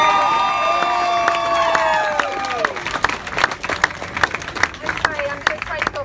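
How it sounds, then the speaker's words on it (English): Crowd applause and cheering follow a tonal sound at the start, then break into scattered, uneven clapping with some voices, fairly close and moderately loud. "Applaud there."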